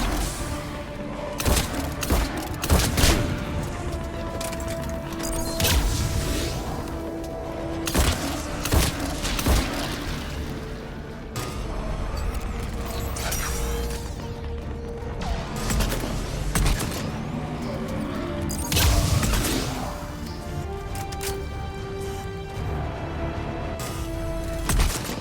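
Shotgun blasts in Mass Effect 3 combat come as loud, heavy, irregularly spaced booms and thuds over a busy battle soundscape, with no speech.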